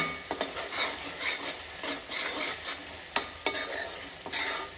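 Spices fry and sizzle in a pan while a utensil stirs them, giving soft scraping strokes and a few sharp clinks against the metal over a steady crackle.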